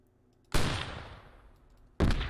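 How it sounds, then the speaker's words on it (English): A HAT heavy anti-tank rocket launcher in the video game Squad firing a 200 meter shot: a sudden loud blast that decays over about a second and a half, then a second sharp boom, with no talking. "We're going to do a 200 meter shot."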